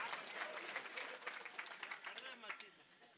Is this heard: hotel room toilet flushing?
no